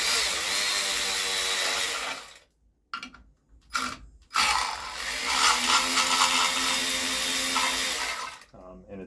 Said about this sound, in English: So first you're going to start by doing all of the bolts on the reduction gear case here.